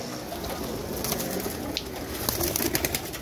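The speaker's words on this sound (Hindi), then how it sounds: "ये जी मेरे अपने कबूतर हैं" Pet pigeons kept at a home coop coo softly and repeatedly over a steady outdoor background, with a few brighter flutters or calls toward the end; no one speaks.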